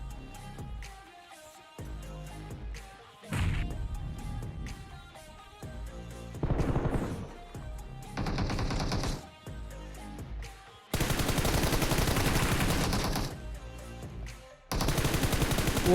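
Gunfire rattles through a PUBG Mobile fight in a series of loud, sustained automatic bursts separated by short pauses, with quieter single shots and game sounds between them.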